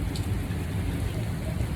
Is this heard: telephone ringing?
no